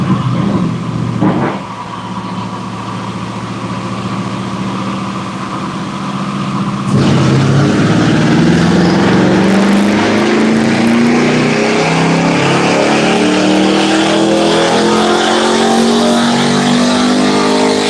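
A 2004 Pontiac GTO's engine roars at full throttle on a dyno, climbing steadily in pitch through a long, loud pull after a brief quieter stretch at the start.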